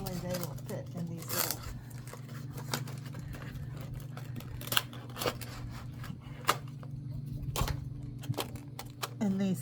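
Scissors cut out paper templates, producing quiet, irregular snips and paper rustles close by over a low background hum.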